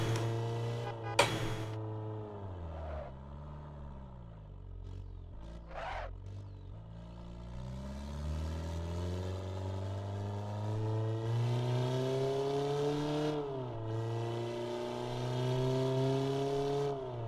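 A four-speed car in the racing game Assetto Corsa whines through gears, engine pitch rising and dropping repeatedly with shifts and revs, steady and clear, a brief loud click early on and no talk.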